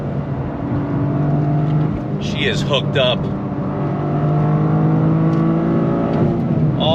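A 2023 Toyota GR Corolla Circuit Edition with a six-speed manual, its engine droning steadily under speech through short gear shifts, with brief squealing higher tones in between.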